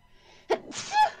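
A single sharp human sneeze with a quick intake of breath beforehand and a short breathy tail, heard close and alone in a quiet room.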